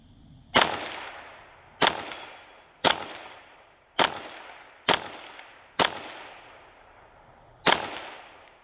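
Seven separate shots from a KelTec CMR-30 rifle, each a sharp crack with a ringing decay as the round strikes a steel target, spaced about a second apart outdoors.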